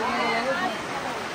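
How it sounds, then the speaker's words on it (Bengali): A heavy downpour pours outside, heard as a dense, steady hiss of rain close by, with a murmur of voices and children playing mixed in. "তার কারণ হলো বাইরে মুষলধারে বৃষ্টি হচ্ছে"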